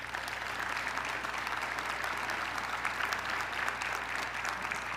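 Steady rolling applause from an audience at a mayoral ceremony presenting a bronze medallion, even unbroken clapping filling the whole stretch, heard at moderate distance with a low hum underneath.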